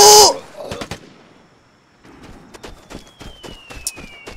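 Gunfire in the video game Vigor: a loud shot opens, a short volley of sharp cracks follows, then scattered quieter shots after a brief lull.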